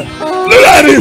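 A single loud, close sneeze bursts out midway through, with a voice speaking just before it at a lively church gathering.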